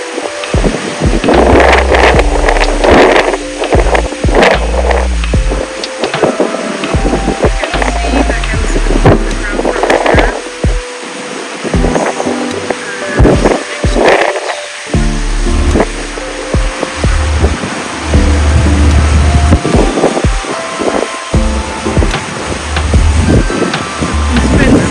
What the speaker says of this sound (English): It was a lovely ferry ride, but as you can hear, it was super windy.